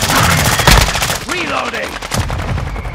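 Dense automatic gunfire in Call of Duty: Modern Warfare II multiplayer, loud rapid bursts of shots running almost continuously, with a heavier blast near the start and a faint voice underneath.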